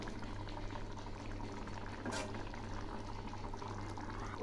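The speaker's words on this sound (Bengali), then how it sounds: "আর একটু ফুটিয়ে নামাবো।" Aar fish curry in mustard gravy bubbling steadily in a pan, a close, continuous low simmering gurgle with one brief louder hiss partway through.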